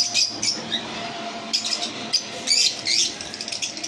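Yellow Fischer's lovebirds squawk in bursts of shrill, close chirps, several quick calls spaced irregularly over a low background hum.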